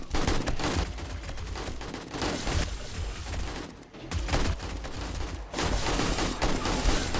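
Rapid AK rifle fire in the survival video game 7 Days to Die, loud sustained bursts of automatic shots that pause briefly near the middle before resuming.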